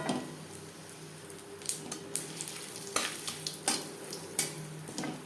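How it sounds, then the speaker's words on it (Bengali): Whole cumin seeds and torn bay leaf frying in hot oil, a quiet, steady sizzle close by, with several light scrapes and clinks of a spoon stirring the pan and no talking. "ফোড়নে দিয়ে দিলাম 1/2 চামচ গোটা জিরে, একটা তেজপাতা যেটা আমি টুকরো করে নিয়েছি।"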